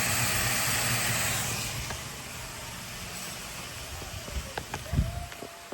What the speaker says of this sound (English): we're turning on the dining table stove